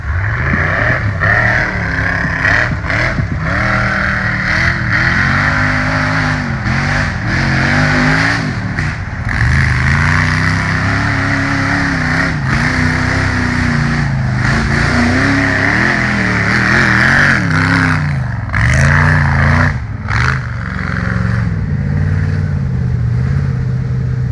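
A loud LS-powered off-road race car engine roars and revs continuously at a hill race, its pitch rising and falling under sustained throttle, close to the listener and without voices.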